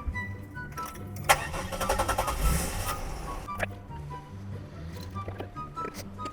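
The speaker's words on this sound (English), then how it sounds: "Okay, and Bailey, go ahead and start your car." A car with a dead battery, jump-started from another car, cranks with a loud whir and catches, then settles into a steady idle; the engine is heard up close with no talking.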